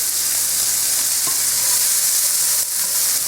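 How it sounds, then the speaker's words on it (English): Onions frying in olive oil in a skillet, a loud, dense, continuous sizzle heard up close with only a faint tap or two of stirring and no talking. "put a little bit more olive oil in the skillet, and then start with the onions"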